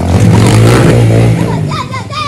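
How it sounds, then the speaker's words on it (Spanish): A motocross motorcycle engine revs loudly and steadily up close, its throaty drone held under excited shouting and talk before easing off near the end. "¡Voy a salir de vuelta en mi moto!"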